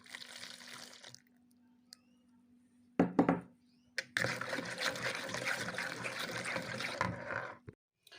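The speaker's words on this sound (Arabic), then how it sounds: "غادي نزيد واحد 110 ملم ديال الحليب دافي" Warm milk poured from a cup into cake batter in a home kitchen: a short splash, then a steady trickling stream for several seconds, with a light knock and faint background hum.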